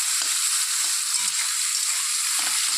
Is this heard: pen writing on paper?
no